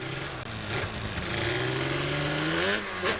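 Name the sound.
1998 Yamaha Banshee engine revving through the gears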